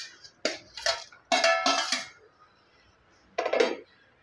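Fried paneer being stirred into a pot of boiling biryani, a utensil scraping and clinking against the pot in several short bursts with quiet pauses between.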